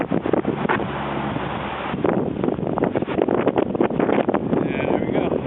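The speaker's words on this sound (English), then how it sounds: "I'm sure you can't hear me because of the wind" Strong wind buffets the microphone at a high old stone pillar lookout on a hiking trail, a steady loud roar with gusty swells throughout, and a person talks over it.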